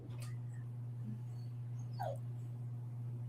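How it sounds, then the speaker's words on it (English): In a quiet room with a steady low hum, a dog whines softly in the background, giving a few brief high whimpers. "talk about her dog whining in the background"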